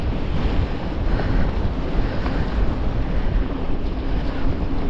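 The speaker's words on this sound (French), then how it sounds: "Mais alors ce vent là de dingue encore. En plus comme on est en hauteur, on se prend vraiment de plein fouet." Strong wind on an exposed hilltop during a mountain bike ride, a loud continuous roaring rush buffeting the microphone, steady and dense with no voices.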